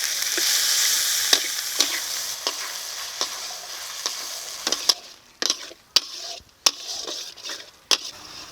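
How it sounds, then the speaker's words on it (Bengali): A spice paste of ground cumin, dry red chilli, salt and turmeric with a little water sizzles and spits in a pan, starting with a steady hiss that breaks into sharp crackling bursts and pops as the paste fries. "এখন মশলাটাকে কষিয়ে নেব"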